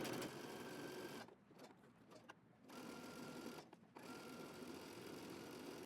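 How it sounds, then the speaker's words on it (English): Sewing machine stitching the side seam of a gathered dress with a 5/8 inch seam allowance, running in steady bursts broken by two short pauses, quiet and close with no talk. "Now we're going to sew our side seam"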